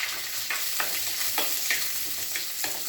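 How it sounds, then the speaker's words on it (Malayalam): Small onions (shallots) sauté in a pan for a beef curry, giving a constant close sizzle with several sharp scrapes from stirring. "ചെറിയ ഉള്ളി വഴറ്റിയതിന് ശേഷം"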